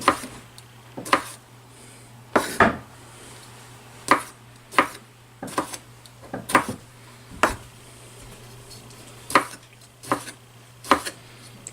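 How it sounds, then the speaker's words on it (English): A knife chops grape tomatoes rustically on a cutting board, about a dozen crisp, separate knocks spaced irregularly a second or so apart over a quiet hum. "Next, sweet grape tomatoes, cut rather rustic."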